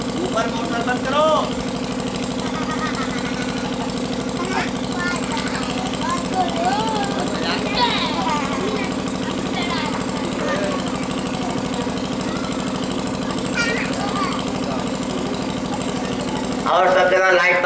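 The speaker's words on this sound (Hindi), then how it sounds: "ऊपर मोटर बंद करो।" A motor running upstairs during a Ram Katha gathering gives a steady, continuous mechanical drone with a low hum that runs the whole time. Faint voices and other sounds pass over it.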